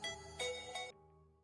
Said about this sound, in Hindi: किसका फोन आ गया सब?